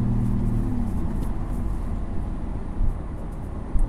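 A car fitted with new headers and an FVD Stage 2 tune idles low at around 600 RPM, giving a steady, continuous low rumble with no voices over it.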